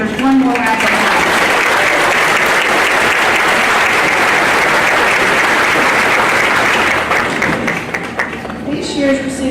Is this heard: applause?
yes